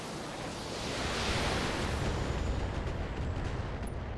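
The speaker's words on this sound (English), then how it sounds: "Yeah, we can't fire our PPCs, but we can fire our Roger LRMs" LRM missile volleys fired by a mech in the BattleTech video game: a dense, loud rushing roar that swells and holds steadily throughout, without clear separate shots.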